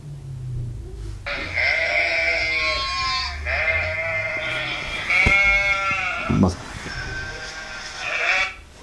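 A herd of sheep bleats as a sound effect, with several loud, wavering bleats overlapping one after another for about eight seconds.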